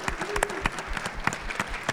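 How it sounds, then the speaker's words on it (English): Applause from a convention panel audience, a brief spell of scattered, moderately close hand claps over a faint crowd murmur. "Can we have a round of applause for the fan questions,"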